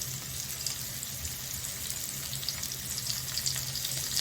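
Surmai fish pieces fry in hot oil, a steady, soft sizzle with a low hum underneath, no voices.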